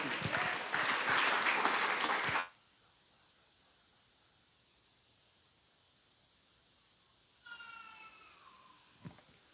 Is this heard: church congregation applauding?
yes